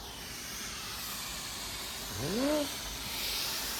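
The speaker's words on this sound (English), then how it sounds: "We definitely got steam coming up" Continuous broad hiss of a steam cleaner on white carpet, steady and fairly loud, with a brief rising squeak-like tone partway through.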